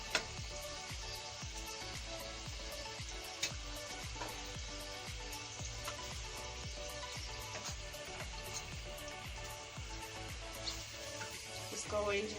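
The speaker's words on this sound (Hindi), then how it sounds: "ये देखिए मैंने ऑयल गरम करके रखा था कढ़ाई में और इस तरीके से मैं इसे फ्राई करूंगी।" A puri-style paratha frying in hot oil in a kadai, a continuous crackling sizzle broken by regular soft clinks and taps, fairly quiet throughout.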